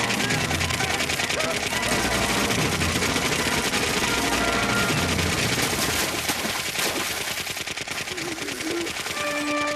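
Rapid gunfire from a henchman's weapon in the Batman animated series episode "Fire From Olympus", a dense sustained burst of shots with dramatic score and effects running throughout.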